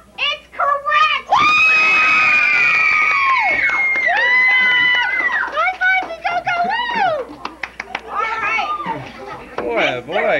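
A home crowd at a televised quiz show erupts in loud cheering, shrill shouts and screams that swell and hold, then break into scattered excited yelling and chatter, close and intense.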